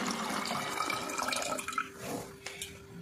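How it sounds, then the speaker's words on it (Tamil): Water poured into a container while preparing a tender coconut juice recipe, a close, trickling and splashing flow that runs steadily and then tapers into a few faint drips. "தண்ணி இதில் ஊற்றி வச்சுட்டு"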